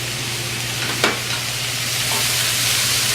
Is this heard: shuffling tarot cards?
no